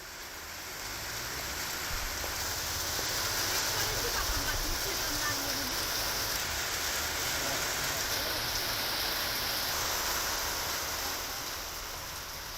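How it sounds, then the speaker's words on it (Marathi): Heavy monsoon rain falls in Lonavala as a steady, even wash of hiss that swells up gradually, holds for several seconds, then eases slightly at the end. "मोठ्या पद्धतीमध्ये इथे पाऊस पडतोय।"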